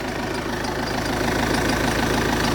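A Vauxhall Zafira 1.9 CDTi 150 diesel engine idles steadily after a starter motor replacement, with a faint metallic rattle running through the low, even hum.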